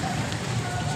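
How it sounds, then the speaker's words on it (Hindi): Rain falling on a road: a dense, steady patter and hiss with low traffic rumble beneath, continuous and close. "तो ये सारा सीन बना हुआ है बारिश का।"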